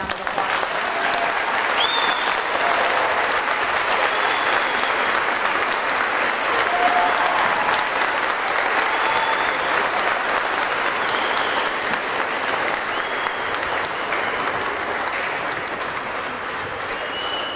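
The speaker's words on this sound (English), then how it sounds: "let's go ahead and give all of our seventh graders a round of applause" Sustained applause from an audience at a West Hardin Middle School seventh grade awards ceremony, steady and dense clapping for the seventh graders that carries on evenly for the whole stretch with faint voices mixed in.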